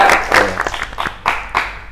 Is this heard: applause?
yes